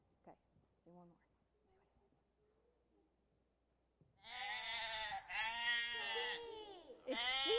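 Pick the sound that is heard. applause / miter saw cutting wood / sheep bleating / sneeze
sheep bleating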